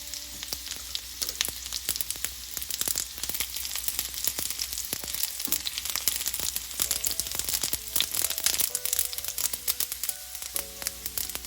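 Mustard seeds spluttering in hot oil while Nepali jhaneko chicken curry is being made, a steady close sizzle broken by many sharp crackles and pops across the whole stretch.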